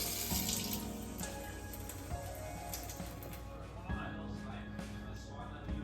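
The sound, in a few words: water running from tap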